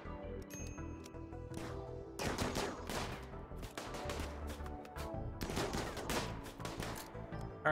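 A chain shotgun in Rimworld fires in rapid rattling bursts, two dense volleys of cracking shots with short gaps between them, heard close with no talk.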